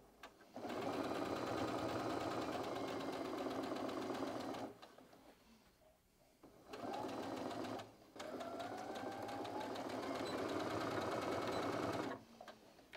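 A home sewing machine stitches a fabric organizer in long, steady runs of rapid mechanical whirring, with a brief pause midway and a short backstitch burst before stopping.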